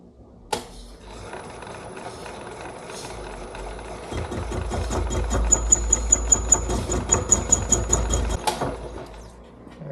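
A machine makes the final cut on a bell bushing repair, a running motor hum that swells midway into a heavier grinding drone with quick regular ticks, then cuts off.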